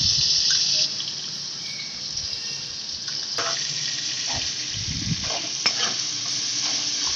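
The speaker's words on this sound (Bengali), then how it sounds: "ওই একই কড়াতে আবার দিয়ে দেবো বেশ খানিকটা সর্ষের তেল। দিয়ে দিচ্ছি আদা রসুন ও পেঁয়াজের পেস্ট।" Ginger, garlic and onion paste sizzles steadily in hot mustard oil in a wok, a dense continuous frying hiss with occasional scrapes and stirring knocks close by, no voices.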